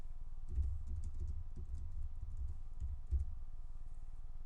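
Computer keyboard typing, a quick run of soft, close clicks and taps lasting a few seconds over a low background hum, with no talk.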